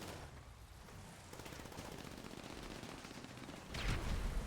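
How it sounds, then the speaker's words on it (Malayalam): Automatic gunfire fired from a vehicle in a battle royale video game tournament match comes as quiet, rapid rattling bursts that grow denser and louder near the end, with no talk over it. "അല്ല, വെടി വെച്ചിട്ട് വണ്ടി ഇരുന്ന് ഫയർ ചെയ്ത്."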